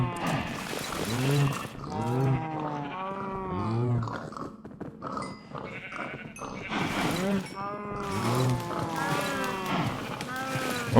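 Cows mooing in Minecraft, a steady run of repeated game-animal calls from a crowded pen of about two dozen cows, overlapping and continuing throughout with only brief pauses.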